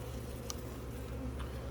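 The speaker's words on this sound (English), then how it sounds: "So I've got 300 bees in here." A soft, continuous buzz of about 300 bees, a half cup held in a container, low and steady, with a couple of faint brief clicks over the drone.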